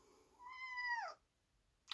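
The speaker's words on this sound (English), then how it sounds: "I'm just going to hold this cat. By the way, this is a rescue cat." A rescue cat held in someone's arms gives a single drawn-out meow with a falling pitch, close and clear, followed by quiet and a brief rustle at the end.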